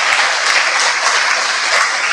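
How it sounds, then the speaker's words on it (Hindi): An audience at a Brahma Kumaris spiritual gathering in Shahabad Markanda claps together in dense, sustained applause, loud and even throughout. "ताली बजा दो, मालिक हो गए"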